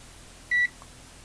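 A ZT-703S oscilloscope multimeter gives one short, clean electronic beep as it powers on. The beep is moderately loud and close against a quiet background, with no talk.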